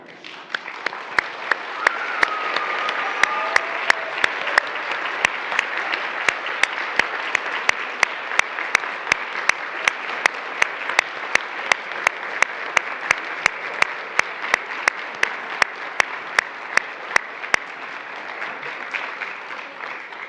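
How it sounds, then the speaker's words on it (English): Church congregation, children included, applauding in a long sustained round, dense even clapping that swells early and holds steady for about twenty seconds, with sharp individual claps standing out close by. "to applaud 10 times louder than the adults"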